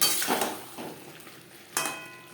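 Potatoes fry with spices in a pan for a Bengali koi fish curry, giving a close sizzle with a few scraping stirs and light clinks of a utensil against the pan.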